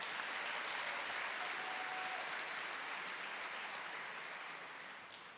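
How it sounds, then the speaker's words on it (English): A sustained wash of audience applause at a college programs and career academy recognition ceremony, dense and steady from a large crowd before slowly tapering off toward the end. "All right, let's give them one more round of applause for their achievements."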